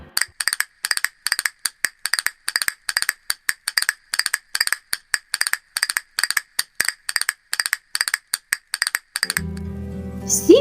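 Quick, bright clip-clop of horse hooves trotting in a steady rhythm for about nine seconds, then giving way to a low tonal sound at the end.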